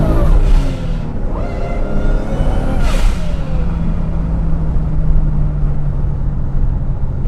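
Twincharged 1JZ Toyota Soarer pulling hard, a loud steady engine roar with rising harmonics, a brief surge near the middle, then a sustained droning note, heard alone.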